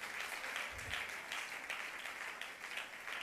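A French-speaking church congregation applauds and acclaims Jesus during worship, a dense, steady wash of clapping that stays loud and continuous throughout.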